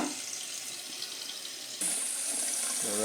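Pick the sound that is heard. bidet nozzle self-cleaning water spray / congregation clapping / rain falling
bidet nozzle self-cleaning water spray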